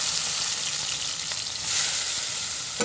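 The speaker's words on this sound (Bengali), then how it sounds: "তেলটা গরম হয়ে চিংড়ি মাছগুলো ভেজে দেবো" Prawns frying in hot soybean oil in a wok give off a steady, loud, close hissing sizzle that holds evenly throughout, with no talking.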